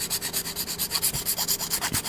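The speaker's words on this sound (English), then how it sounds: "I am going to continue sanding it down so that way it's nice and flush." A Gundam model kit part is sanded by hand with quick, even back-and-forth rubbing strokes, close and steady in rhythm, with a few soft knocks between passes.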